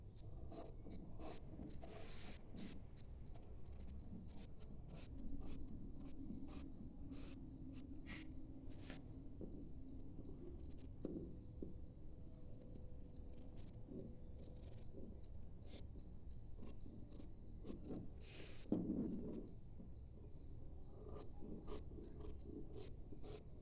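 Blouse fabric being cut with scissors, a long series of crisp snips and rasping fabric rubs at close range, quiet and steady with short pauses and no talk.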